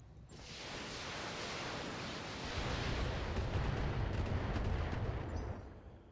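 LRM missiles fired by a mech in a video game make a dense, roaring barrage of rumbling blasts that swells louder about halfway through, then tails off.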